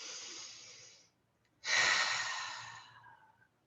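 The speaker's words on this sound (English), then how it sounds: "take a nice inhale through your nose and exhale out your mouth" In a guided breathing exercise, a soft steady inhale through the nose stops for a short pause, then a stronger, breathy exhale out through the mouth slowly tapers off, close and unaccompanied.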